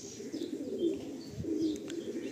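Andhra pigeons coo inside a loft, low soft rolling coos repeating a few times close by, with faint chirps and light background rustle.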